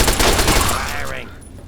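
Gunfire in Fallout 3, a loud burst of rapid shots at the start that fades and thins out over a second and a half.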